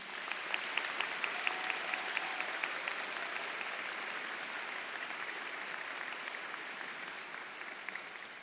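Large hall audience at a DAR Continental Congress education awards night applauding in a broad, sustained round of clapping that holds steady for several seconds, then gradually thins and softens toward the end.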